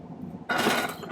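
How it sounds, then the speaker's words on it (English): A hand file rasps briefly against the edge of a silver pendant piece. It is one short, close scrape that starts after a quiet moment. "So I'm going to file the edge of this downwards just a little bit."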